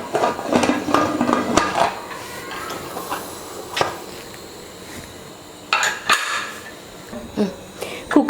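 Metal clatter and clanks as a pressure cooker lid is fitted and its whistle set on, in a home kitchen during biryani preparation, several sharp knocks spread across a low background hiss.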